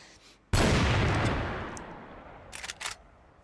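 A sniper rifle shot in CrossFire during a competitive match fires as one sharp, loud report that fades into a decaying echo, followed by a couple of faint metallic clicks.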